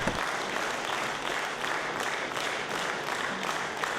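Whole concert hall audience applauding after a singer's new concert program, a dense steady clapping that fills the space loudly and evenly from start to finish.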